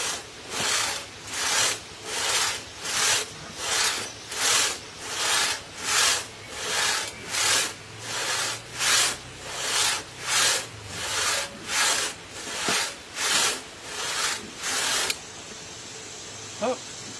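A hand saw cuts through a thick oak log in steady, rhythmic back-and-forth strokes, each rasping pass loud and close, about fifteen strokes before stopping abruptly into near silence.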